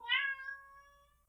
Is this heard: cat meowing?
yes